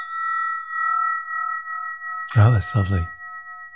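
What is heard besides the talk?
small brass spinning bell ringing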